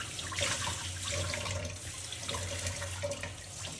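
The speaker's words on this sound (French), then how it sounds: "Allez, je me rince le filtre." An S&S K&N air filter from a 2008 Harley-Davidson Softail Cross Bones is rinsed under a running tap, a continuous close splashing and hissing flow with a faint hum beneath it.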